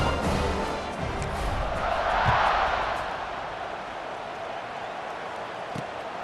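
Virtual stadium crowd roaring at kickoff in the football video game EA Sports College Football 26, a steady broadband roar that swells briefly mid-way and then settles into a constant distant hum.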